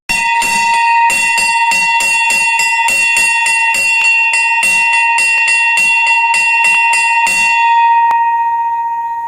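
A loud bell rings continuously with rapid repeated strikes, sustaining a bright metallic tone throughout before fading slightly at the end.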